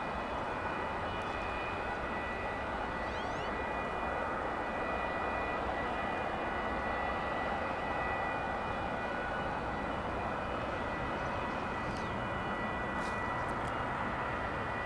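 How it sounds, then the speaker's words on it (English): An American airliner crossing the runway at DFW Airport from the hangars on the west side, heard as a continuous, fairly distant engine drone with a steady whine and no talk. "It's crossing the runway from the American hangars here on the west side of the airport."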